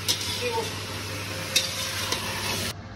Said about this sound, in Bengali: মুরগিটা যে ভাজা ভাজা হচ্ছে বোঝা যাচ্ছে